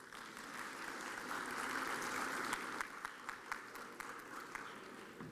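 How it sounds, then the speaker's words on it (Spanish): An audience at a panel discussion on commercial and auteur cinema applauds steadily for several seconds, a fairly faint, even wash of clapping with a few sharper claps near the end. "para quien pido un fuerte aplauso"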